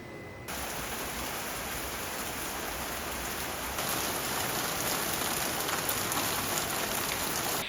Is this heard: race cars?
no